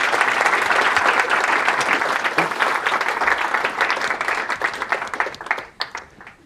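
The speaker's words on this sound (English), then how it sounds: "Another round of applause." Audience at a corporate event applauds in a thick, continuous wash of clapping, loud at first and gradually thinning to scattered claps near the end.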